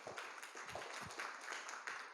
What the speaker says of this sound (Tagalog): Kaya palakpak po sa Panginoon.